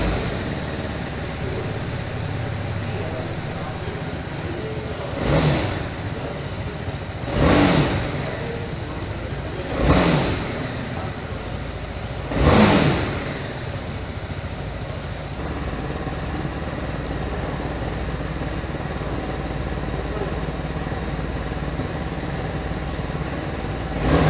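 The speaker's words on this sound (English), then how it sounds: "let me fire up the engine for you so that you can check out the sounds" A 2020 BMW G 310R motorcycle engine runs at a steady idle close by and rises in four evenly spaced throttle revs over about twenty seconds, with no talking.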